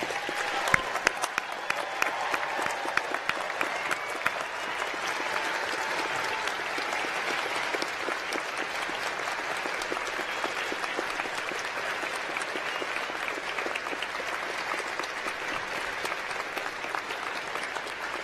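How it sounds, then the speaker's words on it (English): Sustained applause from a large audience for graduates at a university graduation ceremony, a dense, even roar of clapping that carries on unbroken for about eighteen seconds, with cheers early on. "can I ask you to join me in a round of applause for all of our graduates today?"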